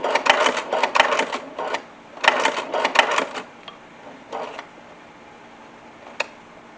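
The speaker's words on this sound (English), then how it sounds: "Let the machine do all the work. It's got a good walking presser foot on it." Walking presser foot sewing machine stitching a double magazine pouch, bursts of fast mechanical clatter starting and stopping, loud and close, with brief pauses and a final single click.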